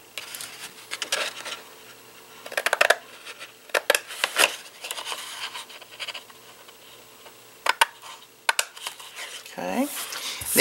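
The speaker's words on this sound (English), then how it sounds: "we're going to cut this little box right here away" Paper box being cut by hand along scored lines with a butterfly die project, giving intermittent short scissor snips and papery scratching, close and fairly quiet, with a rustle near the end.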